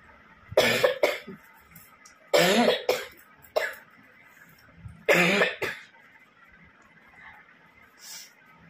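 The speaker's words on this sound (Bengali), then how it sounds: "এত প্রচন্ড কাশি হচ্ছে, এদিকে কপ টপ কিছু বেরোচ্ছে না, ঢক ঢক করে কাশি হচ্ছে।" A person coughing heavily with a dry, hacking cough that brings nothing up, several loud close bursts in separate fits with quiet pauses between them.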